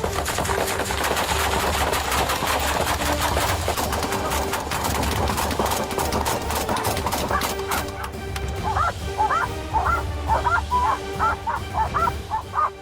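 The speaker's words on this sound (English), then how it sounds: "Deputies then opened fire" Sheriff's deputies fire at a suspect after a high-speed police chase, in a rapid series of sharp gunshots over steady vehicle noise, then warbling honk-like tones.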